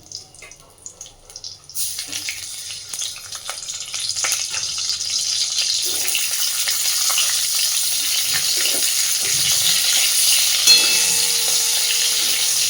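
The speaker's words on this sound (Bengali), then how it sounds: "ওই তেলের মধ্যেই আমি এবার ডিম দুটোকে একটু হালকা করে ভেজে নেব।" Two eggs lightly frying in oil in a pan: after a short quiet start a bright, hissing sizzle rises and holds steady and close for the rest of the time, with faint clinks and a brief knock near the end.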